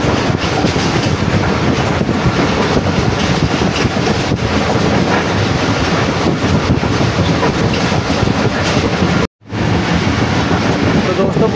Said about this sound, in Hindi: तो दोस्तों पूरे 5:35 पर ट्रेन हमारी जो है वो अप्रोच बना रही है खानेवाल जंक्शन पर।